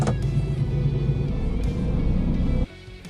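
A car drives along the M5 motorway, giving a steady, loud engine and tyre rumble that drops suddenly to a quieter hum near the end.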